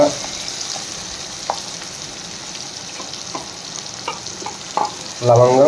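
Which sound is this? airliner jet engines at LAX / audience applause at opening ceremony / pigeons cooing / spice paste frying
spice paste frying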